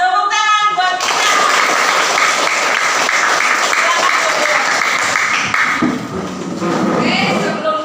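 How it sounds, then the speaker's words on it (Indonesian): A morning gathering of an academic coaching and supervision group breaking into sustained applause, dense crowd clapping that stays loud and even for several seconds after a brief spoken line at the start, then thins slightly near the end. "Tepuk tangan buat kita."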